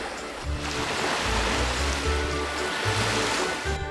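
Sea waves wash steadily onto the beach of a small Italian island with crystal-clear water, a continuous broadband surf wash heard close, alone and without talk.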